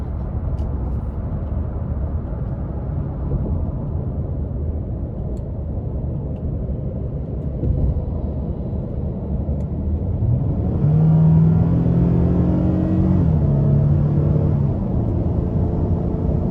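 A 2024 Nissan Frontier crew cab pickup with a strong V6 and nine-speed automatic accelerates out of a corner, a steady engine rumble that swells into a louder rising rev partway through, heard from inside the cab.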